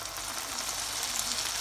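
Brandy flambéing in a frying pan while making banoffee pie: a steady hissing sizzle with a soft whoosh of flame, continuous and close, with no speech.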